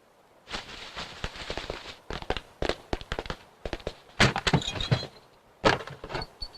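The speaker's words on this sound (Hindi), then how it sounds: "3 ही बम है, चौथा कहाँ है?" Firecracker bombs go off close by in several rapid crackling strings, with sharp, fast pops in bursts and short gaps between them.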